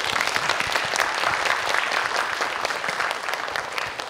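Steady, dense applause from an audience thanking the performers at an LGBT books and films event in Shibuya, many hands clapping continuously at full volume without a break.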